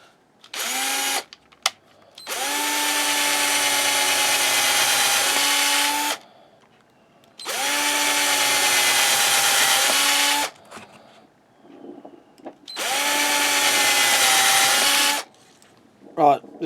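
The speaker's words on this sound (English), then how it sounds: "I would say this drill bit's slightly too big" A power drill bores holes through leather for a simple sheath, whirring in three long steady bursts of about four seconds each, with short pauses and small clicks between them.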